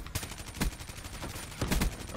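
Automatic gunfire in Black Ops 3 multiplayer, bursts of loud rapid shots with short pauses and a pair of heavier hits near the start and end.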